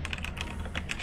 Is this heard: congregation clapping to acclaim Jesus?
no